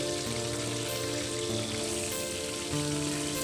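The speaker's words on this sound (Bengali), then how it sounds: "এগুলা ভেজে নিব সব তেলে দিয়ে দিলাম" Fish pieces rubbed with turmeric and chili sizzle in hot oil, a dense continuous frying crackle with tonal music running underneath.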